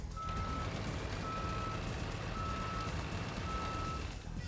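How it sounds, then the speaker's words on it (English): Evenly spaced electronic reversing beeps from a heavy truck cabin in a video game sound four times over a steady truck engine drone, synthetic and clean. "One cool thing about this cabin, it has a reverse gear sound effect."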